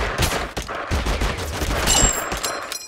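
Rapid bursts of gunfire from the video game Totally Accurate Battlegrounds, loud and close, overlapping shots throughout with a brief high electronic tone partway.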